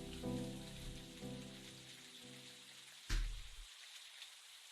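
Rain falls in the video game Necrobarista as a steady, soft wash of drops, heard under a low musical drone with a brief louder burst near the end.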